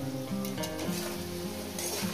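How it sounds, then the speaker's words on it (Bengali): Potatoes fry in a pan for aloo posto, a steady soft sizzle running throughout beneath a louder layer of sustained tonal music. "আলুটা এইভাবে ভাজা হচ্ছে"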